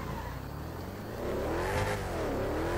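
A Dodge Demon in GTA 5, a muscle car rated at thousands of horsepower, rises from a low rumble into a loud, sweeping engine rev that peaks and briefly falls before climbing again, heard close with no talking.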